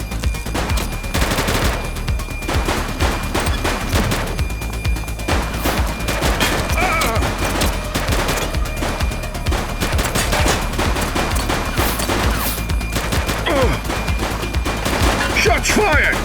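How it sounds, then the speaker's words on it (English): Repeated gunfire bursts and rapid automatic fire crackle through a police shootout in the video game The Precinct, loud and dense throughout, with shouted voices mixed in. "Shots fired!"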